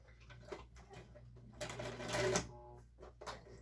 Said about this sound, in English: So we can machine quilt this super fast by putting an X